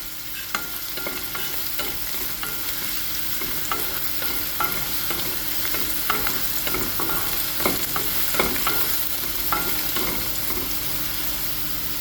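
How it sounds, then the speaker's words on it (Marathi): Garlic and ginger fry in hot oil in a pan with a constant close sizzle, broken by the frequent knock and scrape of a spoon stirring. No one speaks. "गार्लिक, गार्लिक आनी जिंजर भाजून घेता बरें"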